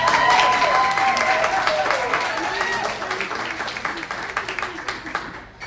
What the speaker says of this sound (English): Once again, Miss Tommi Jo, y'all make a bigger round of applause.